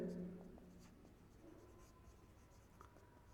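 Faint scratching of writing on a board during an accounting lesson, soft strokes trailing off under a quiet room and a teacher's voice.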